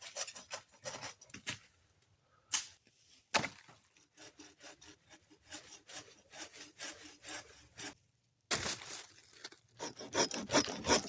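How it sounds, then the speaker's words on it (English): A bow saw cuts through logs in quick, rhythmic back-and-forth rasping strokes, close and clear, with two short pauses between bursts of sawing. "I got to finish these over here with the bow saw"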